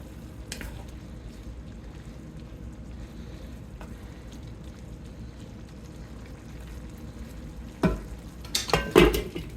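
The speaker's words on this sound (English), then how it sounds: "go ahead and stir in your proteins with everything else" Proteins get stirred into simmering breakfast chili in a skillet, a low bubbling sizzle running steadily, then closer scraping and clattering stirs of the spoon against the pan near the end.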